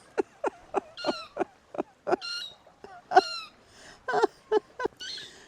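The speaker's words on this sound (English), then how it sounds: "Sorry about the seagull." A seagull calls repeatedly nearby, a series of sharp squawking cries and yelps in an uneven rhythm.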